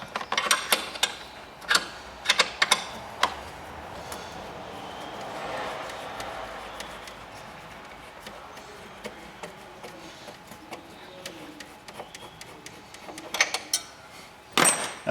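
Metal clicks and ratcheting taps from a 13 mm spanner working bolts loose on a Volkswagen Golf engine during a timing belt job, sharp bursts near the start and end with quieter ticking between.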